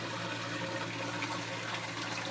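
A solar aquaponics drain canister in Hawaii gurgles continuously, a dense, loud, unbroken rush of draining water with burbling air, close up and without speech.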